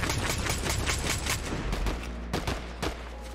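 Rapid bursts of gunfire in Fortnite, a dense run of overlapping shots with sharp reports, loud and continuous across the clip with a few distinct single cracks near the end.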